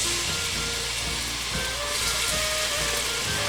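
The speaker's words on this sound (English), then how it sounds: "you're going to want to saute these until the onions are opaque and the carrots are very soft" Carrots and onions sizzle steadily in hot vegetable oil in a pot, a continuous hissing crackle with no talk over it.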